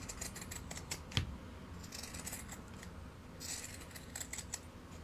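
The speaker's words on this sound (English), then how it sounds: "So we're going around this with pinking shears." Pinking shears cut through fabric for a sewn animal cushion, giving a series of faint, close, crisp snips in irregular clusters with quiet pauses between them.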